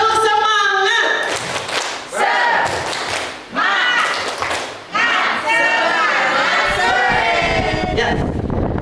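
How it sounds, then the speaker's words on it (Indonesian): A group performs a rhythmic chant-and-clap routine, loud shouted voices alternating with bursts of synchronized clapping and thumps, close and energetic. "Tepuk semangat."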